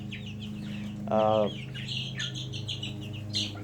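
Wyandotte chickens in a coop make soft clucks and short calls, with one louder sustained squawk partway through and scattered chirps, close by; a person says a brief filler word.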